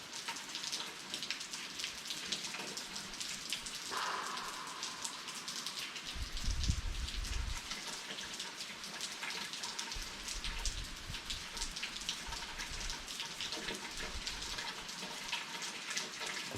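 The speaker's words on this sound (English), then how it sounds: "Watch the rain and listen to the thunder." Steady rain falls on a rural, out-in-the-country day, a dense continuous patter with a couple of low thunder rumbles rolling in around the middle and later on, no talk.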